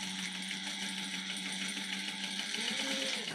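A sewing machine runs steadily while basting a crossbody bag, a close, continuous mechanical whir with a fast, even stitch rhythm and no talking.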